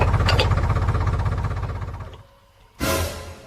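A tractor engine chugging loud and close with a rapid steady rhythm, then fading as it winds down, followed by a brief loud burst of noise.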